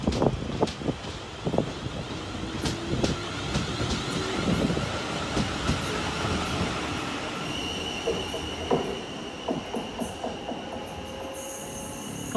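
A South Western Railway train departs Fratton station for London Waterloo, with rumbling wheels, clattering rail joints and high metallic squeals rising as it pulls away.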